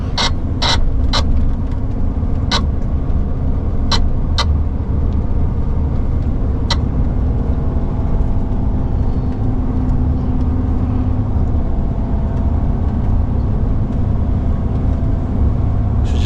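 Heavy hauling truck working on a steep hill through trees with the engine brake or retarder holding it back, a loud continuous low engine drone with a few sharp clicks and knocks early on.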